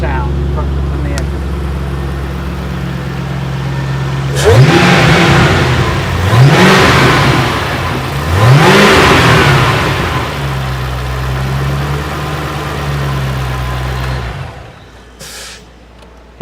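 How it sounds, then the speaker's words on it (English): A Roush supercharged car engine blips through three sharp, loud revs, then settles into a steady idle before cutting off, with voices heard in the background. "Let him hear the supercharger sound from the engine."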